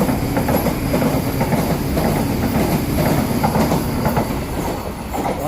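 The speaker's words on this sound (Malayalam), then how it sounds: "ആന്ന് വന്ദേ ഭാരതാ പോയത്." A Vande Bharat express train passes close by at night, a loud, steady roar of wheel clatter and rumble with faint squealing that holds for the whole stretch, with no voices.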